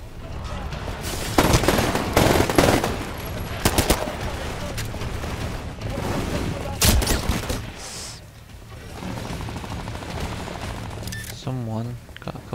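Rapid gunfire and sharp shots in Titanfall on Xbox One, dense and loud, mixed with game effects and a voice speaking over the action throughout.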